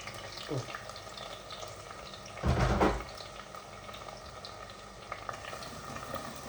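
A large chopped onion frying in a pan, a soft continuous sizzle and bubbling with a brief louder scrape and stir in the middle, close and moderately quiet.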